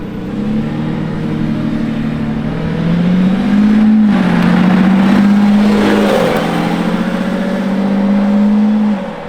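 A Lamborghini Revuelto's engine revs and holds a loud, steady drone whose pitch rises and falls in waves, with a brief sharper surge midway, close by and with no voices.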